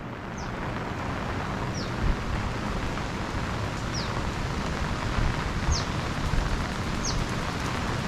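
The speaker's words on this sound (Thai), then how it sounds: "เสียดายมากเลย ฝนตก" Steady rain hisses and patters throughout at a resort in Khao Lak, Thailand, with a few faint high chirps cutting through at intervals.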